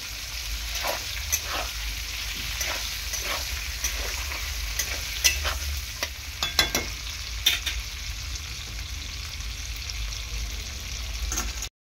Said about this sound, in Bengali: পেঁয়াজটাকে 2 মিনিট একটু নাড়াচাড়া করে নেব এরকমভাবে।